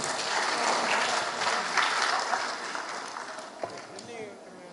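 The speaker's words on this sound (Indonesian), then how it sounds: "Tepuk tangan terlebih dahulu." Audience applause fills a university campus dialogue event with a vice-presidential candidate, a dense steady clapping texture that runs throughout with voices talking over it.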